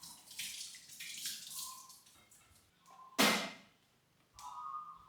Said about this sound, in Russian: Я беру чайник, наливаю туда воду.